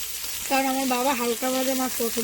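Pomfret fish sizzles steadily in oil in a pan with a constant bright hiss, while tonal, voice-like notes rise and fall over it.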